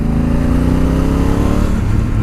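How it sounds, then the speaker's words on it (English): Honda Africa Twin 1-litre motorcycle accelerating in third gear, a loud, smooth engine drone with rising pitch and steady wind noise, close and continuous throughout. "Let me just take a little acceleration here."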